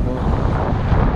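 Strong wind roars steadily across the microphone during a paraglider flight, a dense low rumble and buffeting with no other clear sounds.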